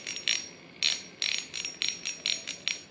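Drag clicking of a Hinomiya ultralight spinning reel, a series of about eight crisp, bright ratcheting bursts at an uneven pace, close and moderately loud with no one speaking.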